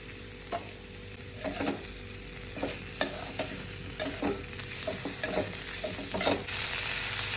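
A vegetable dish (pathri bhaji) is stirred in a pan with a spoon, giving irregular scraping knocks over a soft background sizzle. No one speaks.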